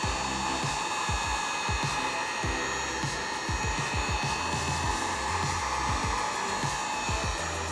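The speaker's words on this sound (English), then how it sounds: "So now I'll use my heat gun to shrink the heat shrink." A heat gun blows steadily close by, a loud, constant whooshing roar as it shrinks heat shrink tubing over a cable during a microKORG power switch repair, with no talking.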